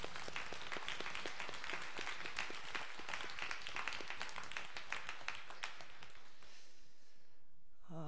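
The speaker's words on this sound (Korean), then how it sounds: "우리 한번 환영의 박수 한번 하겠습니다" A church congregation claps continuously in warm welcoming applause at a Sunday service, steady and dense, fading out near the end.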